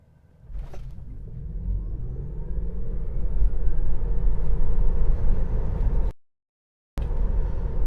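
A 2020 Tesla Model 3 Long Range AWD electric car launching and accelerating hard, a rising whir over rumbling road and wind noise that swells steadily, broken by a short dropout near the end.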